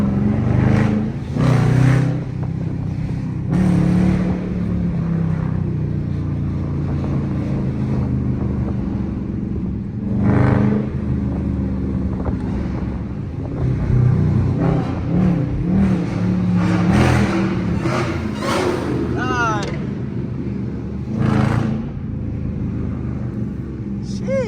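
A widebody Dodge Hellcat's engine rumbles and revs in city traffic, swelling in repeated bursts over steady road and wind noise, heard from a nearby following car, with voices talking at times.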